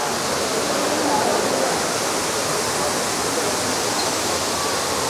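Near the water-curtain cave at Furong town, a waterfall pours down in a dense, unbroken roar of falling water, loud and close, with no voices standing out.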